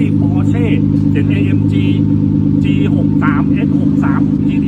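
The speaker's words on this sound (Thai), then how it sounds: "นี่คือรอบเดินเบาที่ต่อให้คุณตีท่อจริง รอบเดินเบาเสียงคุณก็ไม่ได้แบบนี้" A deep, steady idle rumble with a throbbing exhaust tone from a BMW G30 fitted with a THOR active sound speaker system, while someone talks over it.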